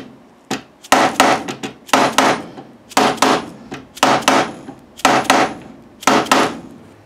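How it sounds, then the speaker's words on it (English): Hammer driving frets into the neck of a 1929 Gibson L5 guitar during restoration, struck in seven sharp close blows, each a quick double tap, spaced about a second apart with a brief ring after each. "absorbs that hammer blow while supporting the neck when you drive those frets in"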